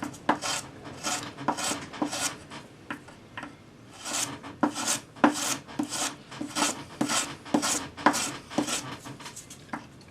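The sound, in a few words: sanding a ring solder join with sanding stick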